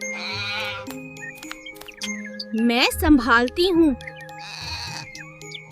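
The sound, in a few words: goat bleating while being freed from a bush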